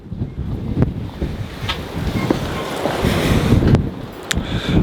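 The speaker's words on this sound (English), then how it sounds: "So let's step into the wind." Strong wind outdoors in the Ozarks, loud gusty roaring and rumbling on the microphone with a few brief knocks, continuous throughout.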